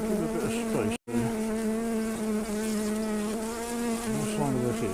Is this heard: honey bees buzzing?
yes